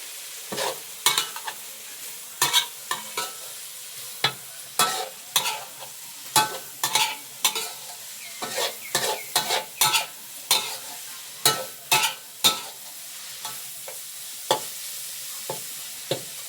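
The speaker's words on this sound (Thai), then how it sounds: "เดี๋ยวทอดไว้นะเซสักพักให้เพิ่นกรอบ" Crickets deep frying in oil until crispy, Isan style, with repeated sharp scraping strokes of a utensil against the pan over a low bubbling hiss, steady and close.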